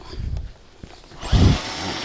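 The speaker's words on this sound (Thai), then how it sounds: "เจาะ" A power drill bores holes for mounting a 340 W poly solar panel, with a brief buzz at the start, a pause, then a louder grinding burst that tails off.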